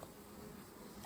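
Carniolan honey bees hum in a soft, steady drone around an opened hive box as frames are lifted out.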